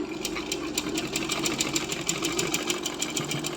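A sewing machine stitches blouse shoulders together in a fast, even run of rapid mechanical ticks, steady and close throughout at a moderate level.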